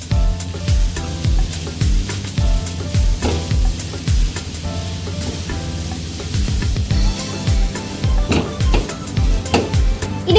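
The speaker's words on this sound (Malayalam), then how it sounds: "ഇതിനകത്ത് ബോയിൽ ചെയ്ത എഗ്, നല്ലതായിട്ട് മിക്സ് ചെയ്യണം." Boiled egg mixture stirred in a frying pan, a loud sizzle with repeated scraping strokes in a steady rhythm, close up and with no talking.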